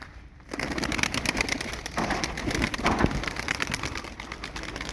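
Tumbler pigeons coo and stir in a loft, a dense, close murmur of soft calls and rustling that starts after a brief quiet moment and carries on steadily.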